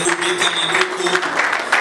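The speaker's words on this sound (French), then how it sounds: "Vos acclamations, s'il vous plaît." Congregation applause and acclamation at a church service, a steady, dense wash of clapping and cheering voices that continues for the whole span with no pauses.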